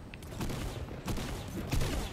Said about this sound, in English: I don't have any guns. Stop shooting at me.